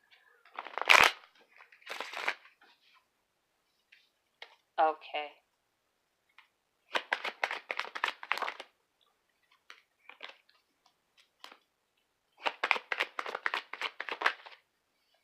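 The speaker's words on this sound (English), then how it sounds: "And I'm going to do one more shuffle and I begin." Tarot cards are shuffled in several quick, crisp riffling bursts with pauses between them, close up, and a voice speaks a single short word in the middle.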